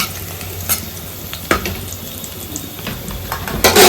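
Garlic frying in a pan in a home kitchen, a steady broadband sizzle with occasional scraping stir clicks, close and fairly loud, with no voices.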